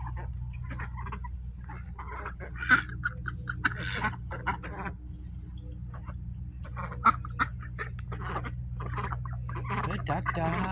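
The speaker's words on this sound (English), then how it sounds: "Good ducks." Ducks working a garden bed give soft quacks and clucks at uneven intervals over a steady hum of insects outdoors, with a person talking nearby.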